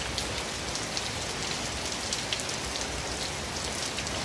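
Steady rain falling at night, a dense continuous hiss of drops on surfaces with no pauses, close and fairly loud, no voices.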